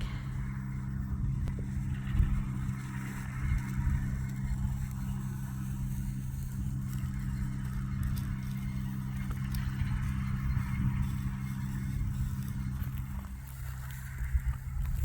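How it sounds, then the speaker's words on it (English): A tractor raking two rows of cut hay together into one windrow hums with a steady low engine drone throughout, moderately close, with faint rattling from the rake and no speech. "he drives down and he rakes the two rows together to form one big windrow"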